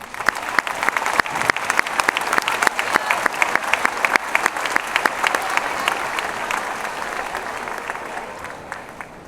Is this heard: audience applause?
yes